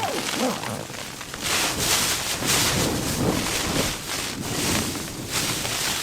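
Strong, gusty wind buffets a tent in loud rushing surges that swell and ease, with fabric rumbling close by.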